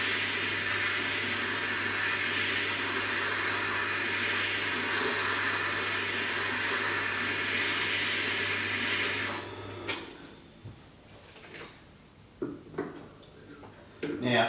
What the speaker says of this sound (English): we move it over to the strop wheel to finish off